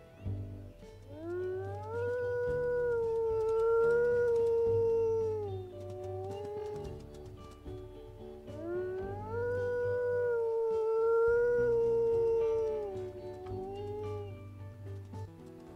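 Wolves in the video game WolfQuest give two long, rising and falling howls in sequence, loud and clear over a low droning background.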